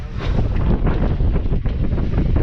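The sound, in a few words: wind on a sailboat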